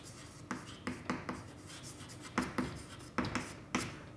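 Chalk or marker strokes on a lecture board, a run of quick tapping, scratchy marks in small clusters, fairly close but quiet, with no voice over them.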